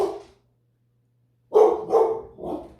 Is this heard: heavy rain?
no